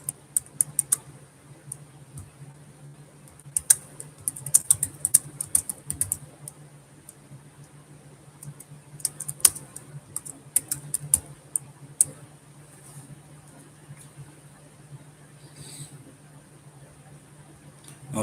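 Someone types on a computer keyboard in quick, irregular bursts of crisp clicks, with pauses and a few isolated taps between them, close and fairly quiet with no talking.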